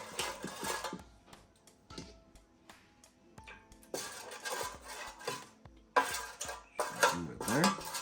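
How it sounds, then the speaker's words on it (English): Metal ladle clinks and scrapes against a pot and baking dish while tomato sauce is spooned in for eggplant Parmesan, a series of close, irregular clanks and rubbing sounds with quiet pauses. "We're going to start with a couple ladles of sauce on the bottom, just to cover."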